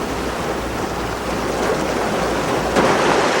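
Sea waves crash against the coast in a loud, continuous broadband roar of surf that builds slightly and churns without pause.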